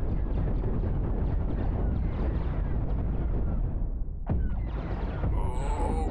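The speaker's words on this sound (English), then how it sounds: "Missiles away." Missiles launch and explode in the spaceship combat video game Cosmoteer: a continuous loud rumbling roar that suddenly cuts off with a sharp blast, followed by fainter crackling and high tones.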